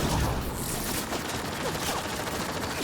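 Rapid gunfire in Mass Effect: Andromeda, with a sniper rifle in use, a dense burst of shots and booms at moderate level over a noisy battle background, with no talk.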